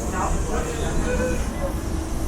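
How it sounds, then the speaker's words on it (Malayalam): A Munich U-Bahn underground metro train runs with a steady, loud rumble and hiss that stays unbroken throughout. "മ്യൂണിക് മെട്രോ പൂർണ്ണമായും ഭൂമിക്കടിയിലൂടെയാണ്."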